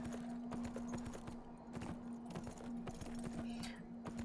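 Horse hooves clip-clopping in the video game Beyond: Two Souls, a steady rhythmic run of hoofbeats over a constant low hum, with no one talking.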